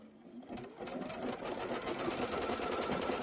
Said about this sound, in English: So first thing is placement stitch.